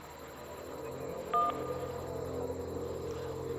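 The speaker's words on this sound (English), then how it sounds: "it makes a noise like I'm actually hitting the button on the phone" A single short phone button beep sounds in the video game The Beginner's Guide, a brief clean tone over a steady background hum.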